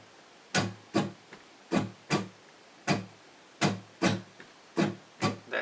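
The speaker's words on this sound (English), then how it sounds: "I'm going to show it to you guys by muting the guitar by just putting my fingers on the strings lightly" Muted acoustic guitar strummed with fingers resting lightly on the strings, giving short percussive scratchy chucks in an uneven down-up rhythm, about a dozen close, dry hits with no ringing notes.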